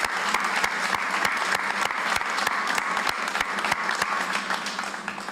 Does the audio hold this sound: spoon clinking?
no